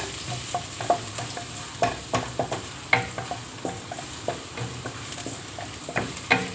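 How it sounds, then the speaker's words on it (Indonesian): Garlic fries in hot oil in a pan, crackling and sizzling softly under repeated sharp scrapes and clinks of a utensil stirring at an uneven pace. "Langsung terus panas, bawang putihnya masukin."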